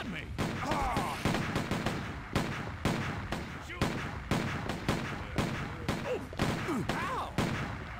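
Rapid bursts of gunfire from the video game Stubbs the Zombie in local splitscreen co-op multiplayer, repeated sharp shots at an uneven rhythm throughout, with excited voices shouting in between.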